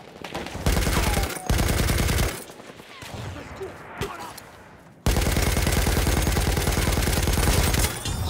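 Rapid machine-gun bursts from a new LMG in the video game Battlefield, loud and sustained with a short pause and scattered distant shots in between, then resuming in a long continuous stream.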